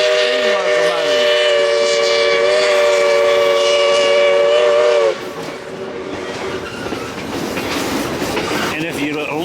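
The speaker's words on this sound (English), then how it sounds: "The diesel locomotive at the end of it, and back behind us, the" A Great Smoky Mountain Railroad train pulled by diesel and steam locomotives sounds a loud, sustained whistle for about five seconds, then rattles along with rolling wheel and carriage noise, heard close by.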